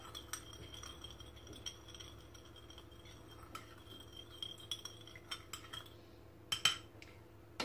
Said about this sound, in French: Je mélange ces trois ingrédients ensemble jusqu'à ce que le sel et le sucre se dissouent complètement.